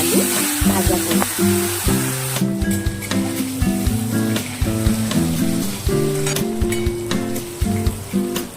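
Ridge gourd and potatoes frying in a pan, a steady close sizzle and crackle that runs the whole time beneath prominent background music, loudest and hissiest in the first couple of seconds.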